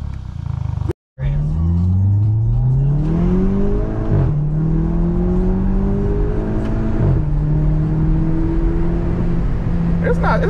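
A 1999 Ford Mustang GT engine revs hard through several rising gear pulls, the exhaust roaring loudly up close, then settles into a steady drone.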